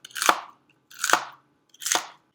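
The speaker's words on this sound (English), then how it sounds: "you just kind of want to cut even slices through the celery." A knife slicing celery on a cutting board in a home kitchen, three crisp, evenly spaced crunching cuts, close and clear with no talking.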